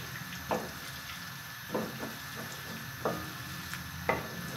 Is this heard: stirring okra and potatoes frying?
yes